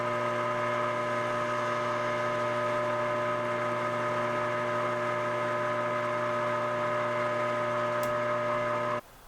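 Lathe taking a light scratch pass while threading a Savage 6.5 Creedmoor rifle barrel at 24 threads per inch, a steady whirring motor hum with tonal whine, close and even, cutting off abruptly near the end.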